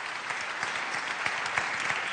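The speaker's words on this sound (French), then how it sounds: "On peut l'applaudir à nouveau." An audience at a national awards ceremony applauds a prize winner with steady, dense clapping that fills the whole stretch, close and fairly loud.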